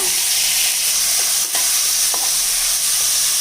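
A pan sizzles loudly and continuously as chopped tomatoes fry, with a few faint scrapes of stirring.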